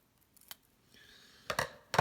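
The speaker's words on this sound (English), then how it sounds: "Cutting things with scissors." Scissors snip through a Lexan plastic lens sheet for a Drake TR7 radio, a faint tick first and then two crisp, close cutting crunches, alone in a quiet room.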